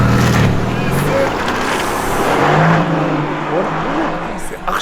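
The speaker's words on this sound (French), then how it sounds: "Accélération." A rear-wheel drive car accelerating hard in a GTA game, its engine roaring loudly and steadily throughout, with a low pitch that climbs, while people talk over it.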